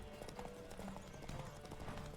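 Galloping horse hooves in a race in The Witcher, a fast, even clip-clop rhythm running steadily under faint game ambience.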